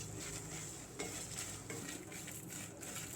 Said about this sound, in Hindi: इसमें हम ये मसाले डाल देते हैं, जो खड़े मसाले लिए थे, और लो फ्लेम पे इसे भून लेते हैं।